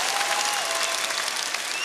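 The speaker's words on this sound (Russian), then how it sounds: "Браво! Ваши аплодисменты!" Concert audience applauding at a large festive show, a loud, dense, continuous ovation from a big crowd with no pauses.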